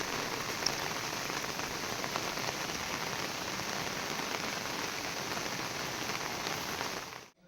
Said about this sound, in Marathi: पाऊस पडतोय